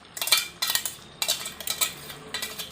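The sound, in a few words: chicken being stirred and sautéed with yogurt in a pan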